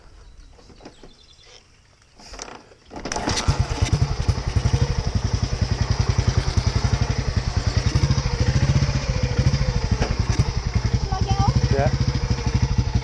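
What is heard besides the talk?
1940s motorcycle engine running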